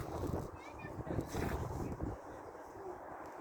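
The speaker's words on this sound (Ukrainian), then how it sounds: "Вітер морозив." Steady wind buffets the microphone with low rumbling gusts, a continuous blustery roar with no clear pauses.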